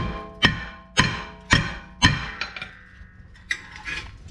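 Sharp metallic hammer taps ring out close by, four strong evenly spaced blows followed by several lighter, quicker knocks on a rear brake rotor of a 2013 Subaru Legacy.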